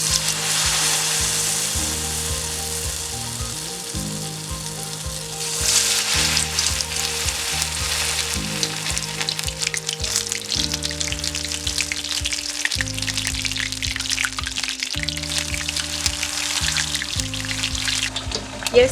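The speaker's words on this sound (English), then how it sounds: "I want your oil to be anywhere between 200 degrees because we're gonna fry it." Cauliflower wings frying in hot oil, a loud, steady crackling sizzle up close, with background music running underneath throughout.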